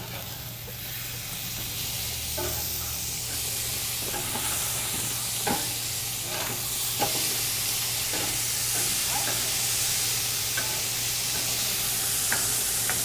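Glazed pork chops sizzle steadily in a hot pan on a grill house stove, a continuous bright hiss broken by occasional soft taps and scrapes as they are gently flipped, with no talking.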